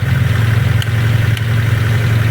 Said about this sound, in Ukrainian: кнопка старт мотор працює